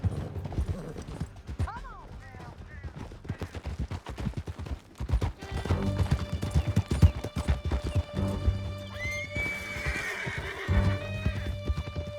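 Horses galloping and neighing in the western game Red Dead Redemption 2, hooves clattering in fast rhythm with whinnies over them, alongside scattered gunshots and a voice shouting.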